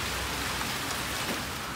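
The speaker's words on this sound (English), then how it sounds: "Because it's raining" Rain falls on a garden in dense, steady broadband patter, loud and close, with no voices.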